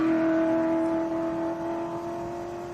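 A hot rod at a drag strip accelerates hard down the track after spinning its tires, a loud steady engine roar with a strong held tone that slowly eases and fades as the car pulls away.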